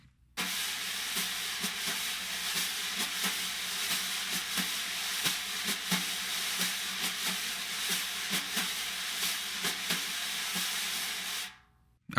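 Brushes on a laminated fiber-type drumhead give a steady, hissy swishing with soft rhythmic accents, close and fairly quiet, playing alone without talk for about eleven seconds before stopping abruptly.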